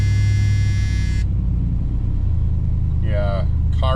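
Carbureted car engine catching after a cold start, following a loud tonal whine that cuts out at about one second; a steady low rumble continues throughout, with brief high harmonic bursts near the end.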